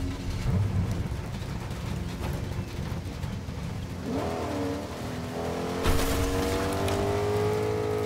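A car driving in the Fortnite video game, engine droning and revving with rising whines and a sharp impact-like burst late on, continuous and fairly close, with no one speaking.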